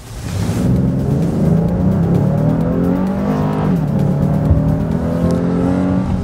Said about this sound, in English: let's see what this 280 horsepower V6 can do